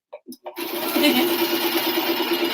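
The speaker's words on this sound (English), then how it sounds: "Go, go, gadget. Sewing machine." A sewing machine in use at a home crafting session starts up after a few brief knocks and runs at a steady motor hum, with a faint repeating stitch rhythm underneath.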